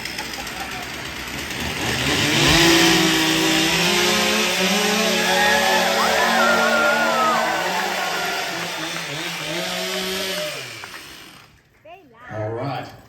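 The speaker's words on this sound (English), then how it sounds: "we're going to warm up the 362 steel chainsaw" A Stihl 362 chainsaw warms up at a lumberjack show in Ketchikan, Alaska, giving a loud, steady two-stroke drone with some revving for about eleven seconds before it cuts off, then brief quieter sounds.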